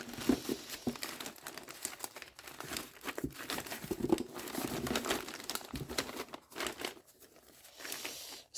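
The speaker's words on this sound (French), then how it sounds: "Ça, c'était du papier cadeau." Gift wrapping paper being handled and crinkled up close, a busy run of crackling rustles and crumples that swells and fades in uneven bursts, with no talk.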